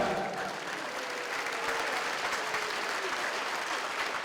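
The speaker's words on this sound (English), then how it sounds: "Let us clap for the respect of our flag" Steady clapping from a seated crowd at a high school commencement ceremony, moderately distant and even, continuing without pause while a faint voice sounds underneath.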